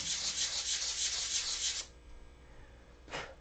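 Sandpaper rubs back and forth over a piece of wood being flattened for a canopy, a steady close scratchy scraping that stops abruptly, then returns as a short final stroke after a brief pause.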